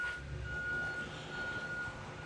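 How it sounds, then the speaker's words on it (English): A school bus backs up beside a building, and its reversing beeper gives a steady, fairly faint electronic tone over low engine rumble from a short distance away. "There's a school bus backing up beside my building"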